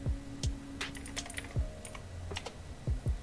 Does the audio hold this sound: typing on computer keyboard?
yes